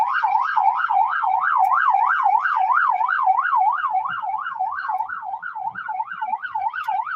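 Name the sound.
police car siren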